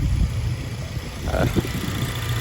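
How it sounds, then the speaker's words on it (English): A car's engine idles steadily in the background of a workshop where an EG6 Honda Civic is being reassembled, a low continuous rumble running beneath people talking. "Sorry about the noise in the background, we just got a friend's car started."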